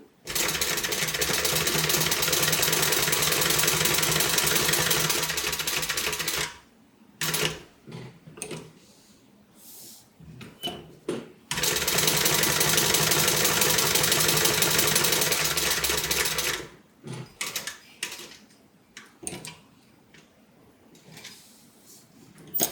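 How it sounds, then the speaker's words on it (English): A sewing machine stitching an accent piece on a multi-compartment tote bag, two long runs of steady, fast mechanical whirring close by, separated by pauses filled with handling clicks and rustles. "Now when I stitch this, I usually go all the way up to the very top of my accent piece."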